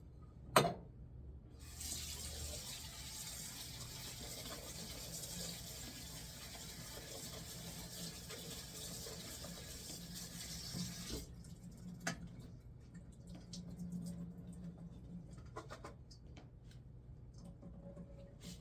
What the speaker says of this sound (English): I'm going to drain it, and I rinse it off with water so that there's no extra salt.